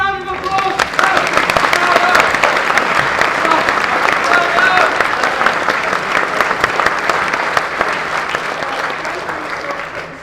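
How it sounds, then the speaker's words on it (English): Loud, enthusiastic audience applause during a comedy stage play, sustained dense clapping from a full house for about ten seconds, with scattered cheers and voices mixed in. "Give them a round of applause!"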